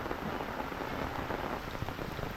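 Steady rain falls in the countryside, a dense, even hiss of drops pattering on surfaces close by, with a faint low rumble beneath and no voices.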